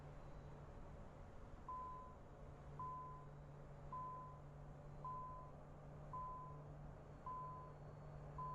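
Warning beep inside an aircraft in Microsoft Flight Simulator 2024, a short tone repeating about once a second over a low engine hum, faint and steady.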